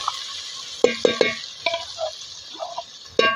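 Masala being stirred in a pan in a home kitchen: a few sharp metallic scrapes and clinks of a spoon against the pan over a soft sizzle, close and fairly loud, with no talking.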